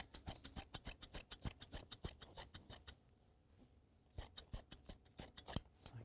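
Scissors trim excess slipcover fabric on a sofa bed, giving quick rhythmic snips close by for about three seconds, then a short pause before another run of snips.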